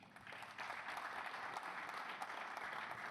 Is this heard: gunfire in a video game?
no